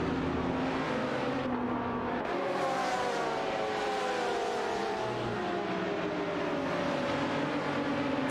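Video game race with AI cars including a Nissan 350Z GT300 and a Lamborghini Gallardo GT3, engines droning and revving through shifting pitches as cars battle for position, fairly faint overall.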